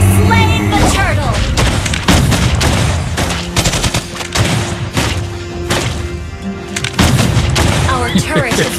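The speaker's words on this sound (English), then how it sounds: "Our turret has been destroyed!" A turret blows apart in a mobile battle arena game amid loud, rapid booms, thuds and gunfire-like bursts, with game announcer voices speaking over the chaotic explosions.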